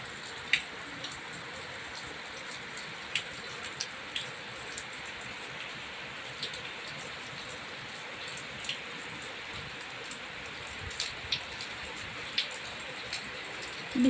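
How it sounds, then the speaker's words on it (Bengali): Rain falling outdoors, a faint steady patter with scattered individual drops ticking on nearby surfaces, quiet and unbroken throughout. "বৃষ্টি পড়া দেখতে বেশ ভালোই লাগে"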